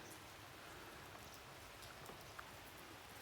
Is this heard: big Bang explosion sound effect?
no